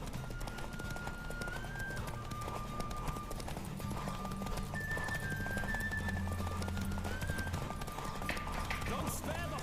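Horse hooves clip-clopping at a steady running pace through a busy, noisy scene, with a constant mechanical hum, a few high tones and talk mixed in.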